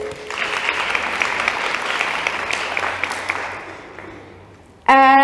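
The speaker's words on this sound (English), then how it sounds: "A round of applause." A crowd claps loudly and steadily for several seconds, then the applause fades out before a brief burst of music.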